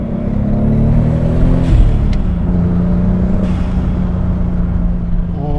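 A Toyota Supra MK4 with the 2JZ-GTE turbocharged engine drones loud and close, swelling through a rev near the middle before settling into a steady, throaty hum with a brief turbo hiss.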